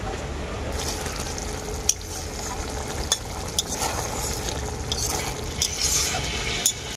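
Mourola fish curry simmers uncovered in a pan, its thin gravy bubbling and sizzling steadily throughout, with a few sharp clinks of a utensil against the pan standing out.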